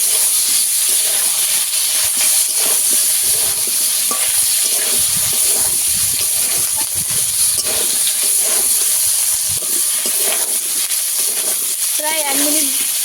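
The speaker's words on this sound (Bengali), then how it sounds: "আদা বাটা দিয়ে দেব তো আদা বাটা বেটে নিয়েছি সব কিছু আবারও কষিয়ে নেবো" Tomatoes and ginger paste fry with potatoes in a pan, giving a steady, loud, close sizzling hiss throughout with light stirring scrapes and no pause.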